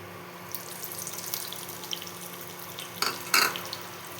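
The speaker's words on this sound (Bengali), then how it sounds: "এর মধ্যে এখন আমি কালো জিরাটা ফোড়ন দিয়ে দিচ্ছি" Nigella seeds crackle and sizzle as they are tempered in hot oil, with scattered light pops and two louder spitting bursts late on, close and fairly quiet over a low steady hum.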